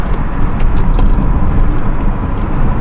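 Steady low rumble of a Renault Zoe driving over an uneven road, with faint glass rattles and knocks mixed into the continuous road noise.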